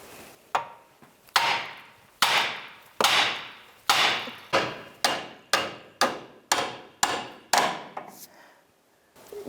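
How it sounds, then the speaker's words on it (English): Hammer striking the steering knuckle of a 2005-2009 Subaru Outback to pop out the ball joint, about a dozen sharp metallic blows at a steady pace, close and loud, each ringing briefly before the next. "I'm just going to hit that knuckle and it should pop it right out"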